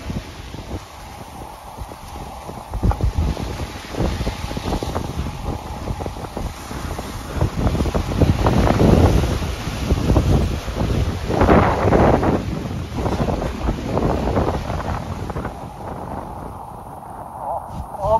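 Strong 18 to 20 mph wind on Lake Chapala, Mexico, roars loudly and steadily against the microphone, with surging gusts and water and boat noise along a muddy shore; it eases and thins toward the end.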